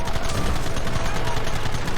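Rapid, continuous bursts of machine gun fire in Red Dead Redemption, evenly spaced rattling shots at steady loudness with no pauses.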